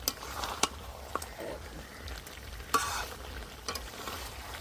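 Desi chicken pieces stir-fried in oil, steady sizzling and frying with scattered clinks and scrapes of a spatula against the pan, close and alone.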